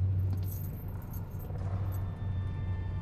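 A bunch of keys jangles softly in a quiet setting, a light metallic rattling that comes and goes over a low steady hum.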